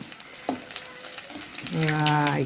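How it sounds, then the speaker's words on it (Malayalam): A fish-shaped snack goes into hot oil for deep-frying, a soft background hiss building into a louder, steady bubbling sizzle near the end. "ഇത് കണ്ടോ അത് എന്തോ ഒരു മീൻ്റെ മാതിരി എന്തോ ഒരു സാധനമാണിത് അത് പൊരിക്കാൻ പോവാണ്"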